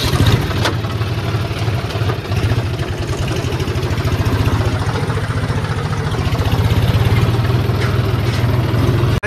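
A New Holland tractor engine runs steadily at idle with a low, continuous diesel throb, close and loud throughout with no talking.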